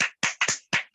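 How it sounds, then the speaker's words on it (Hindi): Handclaps sound to welcome a speaker at a personality development class, four or five loud, close claps in quick succession within about a second, with no talking. "तो एक बार जबरदस्त तालियों से मोस्ट वेलकम करना चाहेंगे हमारे UCD का"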